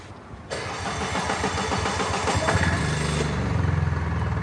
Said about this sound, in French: Vous poussez la clé plus loin jusqu'à ce qu'elle soit démarrée.